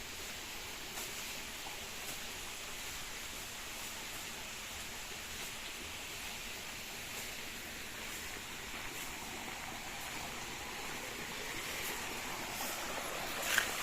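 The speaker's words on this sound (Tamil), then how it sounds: "தண்ணி பாருங்கள் மழை வந்தால் ஓடும் நேற்று காமிச்சோம் எப்படி ஓடிட்டுருக்கு குட்டி ஒரு நீரோடை அழகாக இருக்கும்" A small rainwater stream runs outdoors after rain, giving a steady, even wash of flowing water throughout with no voices, ending in a brief louder knock.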